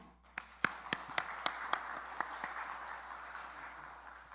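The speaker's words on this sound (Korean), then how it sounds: "장로님들께 격려의 박수" Scattered claps from a small church congregation honoring the elders, about a dozen distinct sharp hand claps in a loose rhythm fading into a soft wash of room noise.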